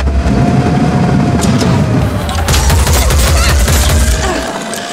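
Gunfire and explosive booms from combat in the tactical video game Phoenix Point, with dense, continuous crackling bursts layered over a low rumble, loud and sustained before easing off near the end.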